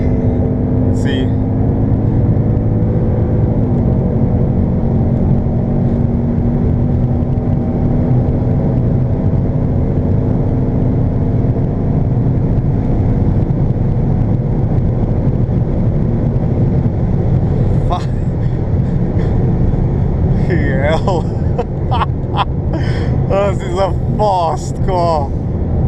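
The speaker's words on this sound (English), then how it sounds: "A very, very, very fast car." A 2019 Ford Mustang driving at speed on an open road, its engine droning steadily throughout, with a person talking over it near the end.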